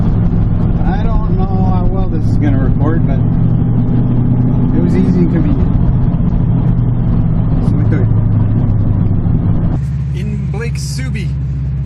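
A Subaru engine drones loud and close from inside the car under hard acceleration in Sport Sharp mode with rear-biased power, the steady engine drone overlaid by a talking voice, captured on an old GoPro.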